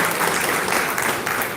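A lecture audience claps in a dense, steady burst of applause that sounds loud and fairly close, filling the moment without a break. No one speaks over it.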